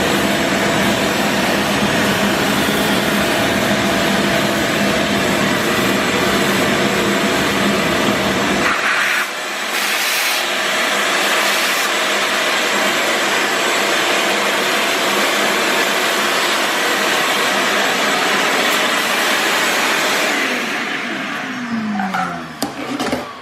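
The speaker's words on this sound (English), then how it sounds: "I'm just gonna vacuum something on the floor over here" A Ridgid WD4070 wet/dry portable vacuum runs close and loud as a steady whining roar, its tone shifting partway through, then winding down near the end.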